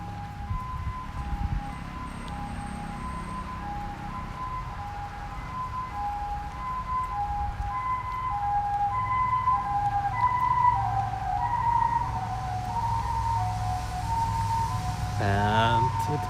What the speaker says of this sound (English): Oh, ambulance approaching.